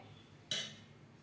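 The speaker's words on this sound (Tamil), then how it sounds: "நான் பாத்திரம் வச்சுருக்கேன்." A single metallic clink as a pot is set down on a hard surface, brief and fairly close in an otherwise quiet room.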